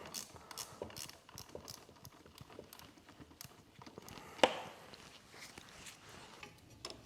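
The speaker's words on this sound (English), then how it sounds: "Start by opening the pinch bolt here on top." Wrench work loosening the upper fork pinch bolt on a 2023 Honda CB500X triple clamp: faint, close metallic clicks and ratcheting ticks in an irregular series, with one sharper clack midway, no voices.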